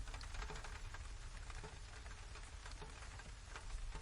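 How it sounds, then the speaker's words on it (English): Gentle rain falling on plane tree leaves and city pavement in an old London street, a dense, steady patter with soft rustling that continues evenly throughout. "The rain continues to fall gently on the leaves of the plane trees, creating a soft rustling sound that mingles with the steady patter on the pavement."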